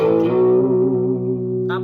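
Overdriven electric guitar drive tone through a TANK-G multi-effects pedal, one sustained chord ringing steadily and close, with a brief new strum at the very end.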